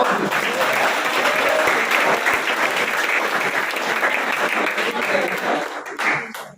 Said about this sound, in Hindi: मनीषा के लिए तालियां बजती रहनी चाहिए